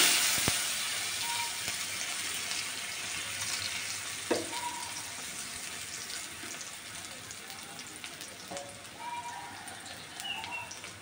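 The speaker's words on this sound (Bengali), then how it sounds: "এবার আলুগুলো ভেজে নিতে হবে।" Potatoes frying in hot oil for a Bangladeshi fish recipe, a steady soft crackling sizzle with scattered pops running throughout, fairly faint and without talk.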